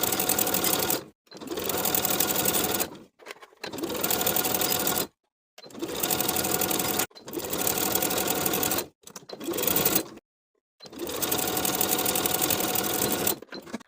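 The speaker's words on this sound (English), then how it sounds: "Sew the sleeve into the armhole with a 3/8 inch seam allowance and repeat for both sleeves." A sewing machine stitches a cardigan sleeve into an armhole in loud, rapid bursts, about seven runs of a few seconds each separated by short pauses.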